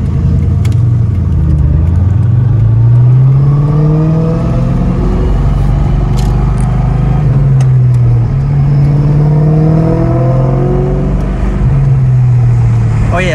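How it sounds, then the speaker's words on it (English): Close, loud engine of a supercharged Cobra car while driving, with repeated rising and falling revs through gear changes and a steady mechanical whine over the low rumble. "I'll show you a clip of me driving this car."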